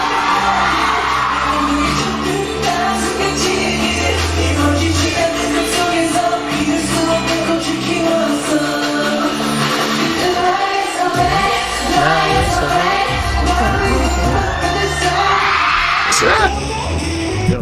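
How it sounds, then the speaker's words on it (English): A concert crowd yells, whoops and cheers continuously, loud and dense, with music underneath and a brief dip before the roar resumes near the end. "I just like the yelling of the crowd."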